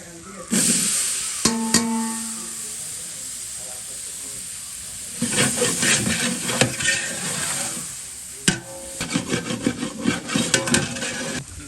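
Tomatoes fry and are stirred in a pan for Tamil Nadu-style biryani, with a loud steady sizzle broken by bursts of scraping and stirring, and two sharp knocks of the spoon against the pan.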